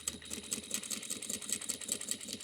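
A sewing machine back-stitches a seam on a fabric boxy bag, running with a fast, even mechanical chatter at close range and moderate volume, with no voices.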